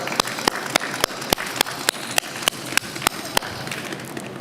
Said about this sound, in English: Let's give her a round of applause as she will hear.